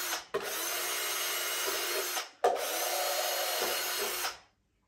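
A power drill bores holes into a silk-flower heart form, two sustained whirring runs separated by a brief pause, close and loud with no talking.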